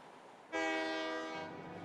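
A train in Paper Mario: The Thousand Year Door sounds a loud, steady, harmonic horn blast that starts abruptly and holds for about a second, then drops to a lower rumbling rail hum.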